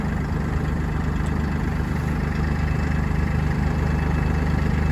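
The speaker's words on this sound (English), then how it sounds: "So we'll press the clutch to start the tractor" Massey Ferguson 1835M 36 hp compact utility tractor engine running at a steady idle, a loud, close, continuous low rumble with no talk.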